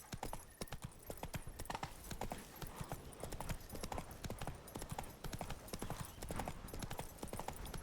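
Hooves of a horse clip-clop in a steady trotting rhythm while riding in the Witcher 3: Blood and Wine video game, close and continuous with busy in-game ambience underneath.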